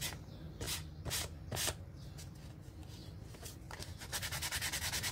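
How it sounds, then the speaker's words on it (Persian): Sandpaper rubs over a Tetra Pak printing plate in quick, scratchy strokes, close and fairly quiet, with a faster rhythmic burst of short rubs toward the end. "سنباده زدم."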